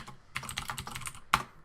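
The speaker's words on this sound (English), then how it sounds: "Not gonna be the best of typing." Typing on a computer keyboard, a quick run of light clicks that ends in one louder key strike, close by with no talking.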